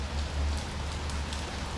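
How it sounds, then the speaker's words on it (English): Steady rain hisses down on a surface, a dense, even wash of drops with no other sounds. "Still bloody raining, man."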